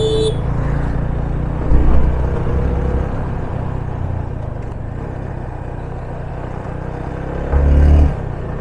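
A vehicle cruising on a forest highway between Goa and Mumbai, with a steady road and engine rumble throughout and a couple of louder swells as it presses on.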